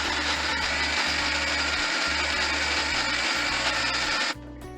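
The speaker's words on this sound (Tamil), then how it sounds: "இந்த மிக்ஸி ஜாரில் எல்லா ஐட்டமையும் நம்ம போட்டாச்சு. இப்போ லாஸ்ட் ஸ்டெப்பு அரைக்கணும்." A kitchen mixer grinder runs at full speed blending aam panna paste in its jar, a loud steady whirring roar with slight pulsing, then it cuts off sharply near the end, leaving a faint hum.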